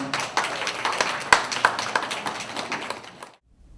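Small crowd clapping at the unveiling of a Statue of Peace girl statue at the Korean community center in New York, scattered close hand claps with a few sharp louder ones, fading out and stopping near the end.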